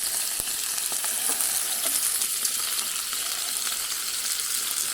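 Ground venison with some beef added sizzles steadily on a Pampered Chef grill, a dense, even frying hiss that runs throughout with faint crackles and no talking.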